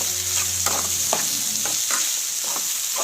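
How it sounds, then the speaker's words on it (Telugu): Prawn curry with fresh coriander is stirred in a frying pan: a close sizzle runs under a series of scraping spatula strokes, about five or six in three seconds. "వేసి మొత్తం అంతా కలిసేటట్టు తిప్పండి."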